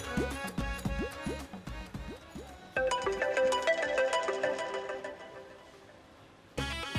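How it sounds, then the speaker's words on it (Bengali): A phone rings with a melodic electronic ringtone: repeated bright tones in a bouncing pattern, then a denser chiming phrase that fades, before the ring starts again. "জি রিং রিং হচ্ছে।"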